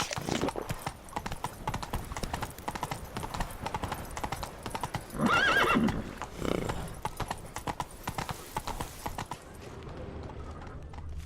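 Horse hooves clip-clop steadily through The Witcher 3 video game, joined midway by a brief whinny, with soft game ambience underneath and no talking.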